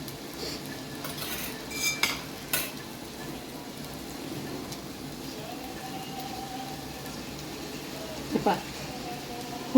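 Cooked Saraswat-style liver sukka being cut in a pan, with a few metal-on-pan clinks and scrapes over a faint background hum and a voice speaking.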